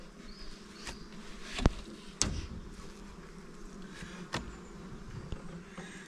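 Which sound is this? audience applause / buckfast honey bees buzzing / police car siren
buckfast honey bees buzzing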